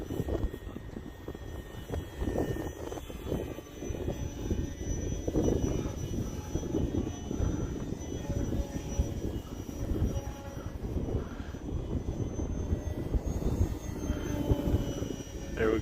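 A Durafly Tundra V2 radio-controlled plane flies in windy conditions, its electric motor whining steadily with rising and falling pitch under heavy wind buffeting the microphone, moderately loud and continuous.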